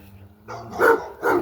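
A dog at the kennels of a rural natural-regeneration garden site gives two short barks at middle distance, separated by a brief pause, over faint background noise.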